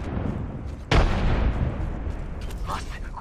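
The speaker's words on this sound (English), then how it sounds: "Frag grenade sent." A frag grenade goes off in a first-person shooter game, one sudden loud blast that dies away into a low rumble, with game noise continuing around it.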